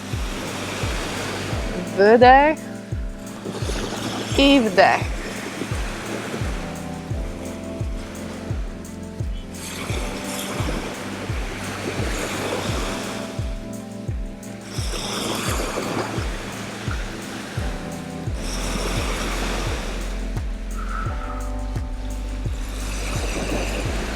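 Ocean surf washes onto a shore in slow, soft surges, a low steady roar beneath a calm voice giving breathing instructions and faint tonal music.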